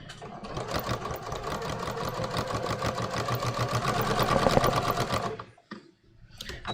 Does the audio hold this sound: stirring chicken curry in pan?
no